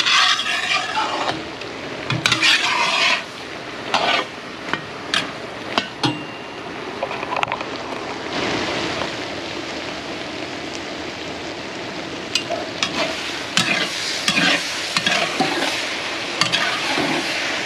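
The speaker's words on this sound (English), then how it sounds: "You hear that good sizzle down there," Jambalaya frying in a pot outdoors, a steady sizzle running throughout while a spoon scrapes and knocks against the metal in irregular strokes, fairly close with no talking.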